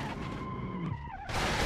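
A car skids and crashes in the driving game Automation, a loud sustained tire skid with engine tone that breaks into a harsh impact burst near the end, with no talking.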